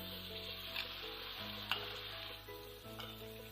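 Chopped tomatoes hitting a pan of onions, ginger and garlic frying in oil for chenna karela, producing a soft steady sizzle with light stirring clicks and scrapes, quiet and close with no talking.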